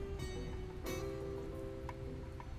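Steady rain falls outdoors where a girl waits without an umbrella, making a continuous dense hiss with a brief louder splash of drops near the middle and no voices.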